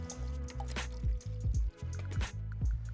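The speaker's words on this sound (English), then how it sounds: "Let's grab our Hawthorne strainer and our fine strainer. Strain over ice." A whiskey sour strained through a Hawthorne strainer and a fine strainer over ice, giving a close run of drips and wet squishy trickles with a few brief louder splashes, no voices.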